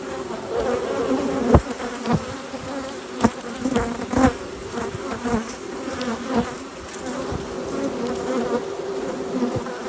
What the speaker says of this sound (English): She's being guided by her bee friends.